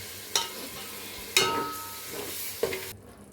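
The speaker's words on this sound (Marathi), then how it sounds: "हेच पाणी आता ह्यात मी मसाल्यात सोडत आहे" Water in which spice masala was ground gets poured into a pan of frying spice mix for masale bhat, giving three sharp splashing sizzles followed by steady hissing, close and alone.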